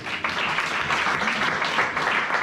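A church congregation applauds together in a steady, dense wash of clapping, near and fairly loud, continuing without a break.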